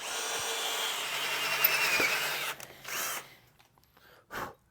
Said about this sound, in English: We're going to go ahead and drill that one too.